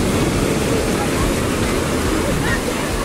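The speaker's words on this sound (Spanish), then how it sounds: "Ya está bueno el oleaje, mi gente." Strong ocean surf at Caleta beach in Acapulco, a loud, steady roar of crashing waves filling the scene, with someone talking over it.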